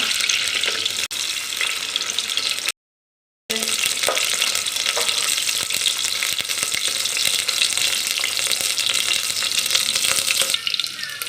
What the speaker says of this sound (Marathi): प्रथम आपल्याला मिरची टाकायची आहे कांदा